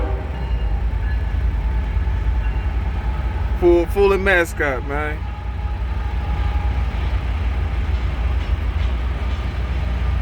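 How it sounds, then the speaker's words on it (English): A train rolls past a railroad crossing in Haslet, a steady loud rumble of cars on the rails throughout, with a brief horn blast mid-way and people talking over it. "I'm still dealing with the train."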